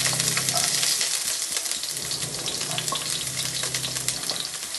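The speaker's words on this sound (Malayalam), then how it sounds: "എണ്ണ കായിട്ട് ഇതിലേക്ക് ഞാൻ ഒരു 5 ചെറിയ ഉള്ളി നന്നായി ചെറുതായി മുറിച്ച്" Chopped small shallots sizzling in hot oil in a pan for a Kerala fish curry, a continuous crackling, spitting fry with occasional stirring clicks, close and steady.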